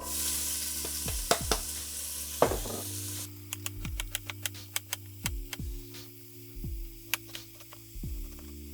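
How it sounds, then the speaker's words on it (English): Chopped onion sizzles in generous olive oil in a hot pan, a soft crackling bed broken by sharp utensil knocks and clicks at irregular intervals over a low steady hum, with no voices. "we can just start browning off the onion straight away"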